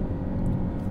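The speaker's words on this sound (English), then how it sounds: "there's no compromise for the muffler noise" A 2022 Hyundai Elantra N's exhaust and muffler drone as a steady, dense low rumble that fills the whole second without a break.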